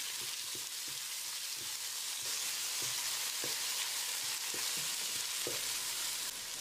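Two chopped tomatoes with turmeric and salt sizzle steadily in a hot pan while a spoon scrapes and taps the pan in an irregular stirring rhythm, sautéing them down to a mush.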